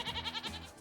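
A goat bleats in a short wavering cry, a close and fairly loud call that rises and falls a few times in under a second, with no talk over it.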